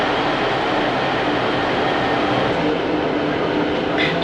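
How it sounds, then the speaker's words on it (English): A train running near the new Marsh Barton station in Devon, heard from on board as a loud, steady low rumble and rolling roar with no breaks, no voices over it. "I guess we're on the first train to Marsh Barton"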